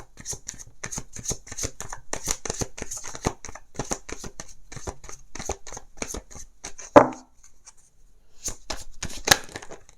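Lenormand cards are shuffled in a rapid run of crisp flicking riffles, close to the ear, with a brief pause and a few more shuffles near the end.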